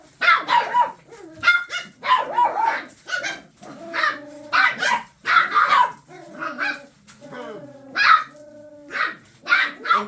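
Puppies bark and yip in rapid, excited bursts, close and loud, with whimpers mixed between the barks over about ten seconds.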